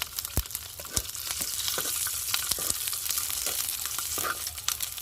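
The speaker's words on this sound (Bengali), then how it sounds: "এখন আমি শুকনো লঙ্কা আর রসুনগুলোকে একটু ভালো করে ভেজে নেব আগে" Dried red chillies and garlic fry in hot oil in a home kitchen, giving a steady close crackling sizzle with sharp pops and occasional stirring scrapes, and no talk.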